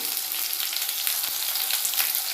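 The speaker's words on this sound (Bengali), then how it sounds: "দিয়ে আমি এগুলো একটু লাল করে ভেজে নেব" Diced potatoes frying in hot oil with salt and turmeric in a village-style Bengali kitchen, giving a steady, dense sizzle throughout with faint stirring underneath, close and continuous.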